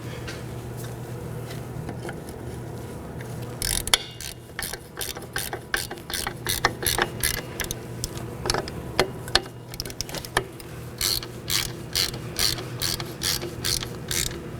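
A hand ratchet snugs down the wheel cylinder bolts on a 2013–2019 Nissan Sentra: quiet mechanical ticking at first, then bursts of rapid clicking strokes in quick repeated runs, close and dry, with no one speaking.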